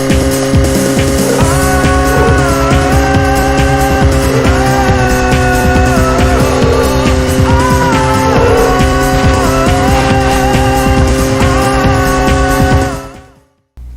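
Stock car engines roar steadily in the All-Stars Racing video game, with layered pitch shifts from several cars and tire squeal, loud and continuous before cutting off abruptly near the end.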